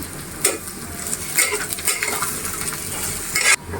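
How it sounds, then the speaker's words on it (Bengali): Sliced onions fry in a pan for a fish bharta, with a continuous close sizzle and the scraping, clinking strokes of a spatula stirring against the metal at irregular intervals. "এই তো দেখেন পেঁয়াজটা আমি হালকা ব্রাউন কালার করে ভেজে নিয়েছি"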